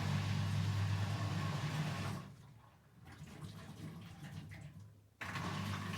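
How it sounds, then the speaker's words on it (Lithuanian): A Haier washing machine with an error fault runs its drain pump, pumping water out in a steady, loud rushing hum that dips and softens midway before resuming at full strength. "Štai siurblys dirba puikiai"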